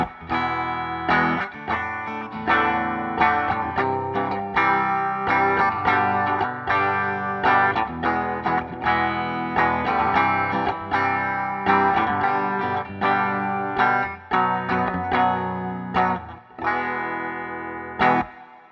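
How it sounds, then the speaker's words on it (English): A 2013 Fender US Stratocaster Standard electric guitar plays a busy run of picked notes and chords with effects through an Acoustic 201 2x15 speaker cabinet, steady and fairly loud with no talking. "This is a US Stratocaster standard, and it sounds like this."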